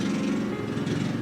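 A neighbour's lawn mower drones steadily in the background, a continuous low engine hum with no other sounds over it.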